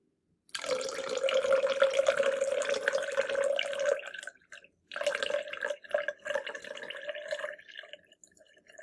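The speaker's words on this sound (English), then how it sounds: "Again, we are going to carefully pour in the water." Water is poured carefully into a container for a sink-or-float density demonstration with honey and syrup, making a steady close trickle for several seconds, then a brief pause and a second, more broken stream.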